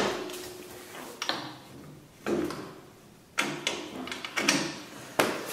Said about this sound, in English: finish pounding the bolt through